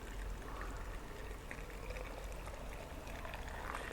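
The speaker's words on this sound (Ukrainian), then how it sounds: "Склала помідори до банок і заливаю окропом кожну баночку до самого верху" Boiling water poured into glass jars packed with tomatoes, a steady close pour with a continuous splashing stream and no talk.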